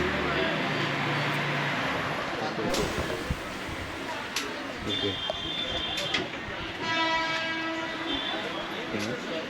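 A passenger train bound for the Konkan region in Maharashtra rumbles steadily nearby while its horn sounds in drawn-out blasts, with faint clatter and murmuring voices in the background.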